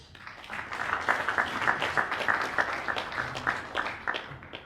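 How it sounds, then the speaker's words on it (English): A crowd claps steadily, a burst of audience applause that swells and holds at a moderate level before starting to fade. "There's another round of applause for him."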